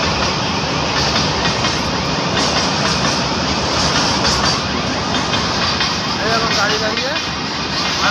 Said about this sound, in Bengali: ট্রেন যাওয়ার অপেক্ষা করছি